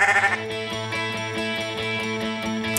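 Sheep bleating close by on a farm before shearing, a sustained wavering call with a second bleat over it, alone without talk.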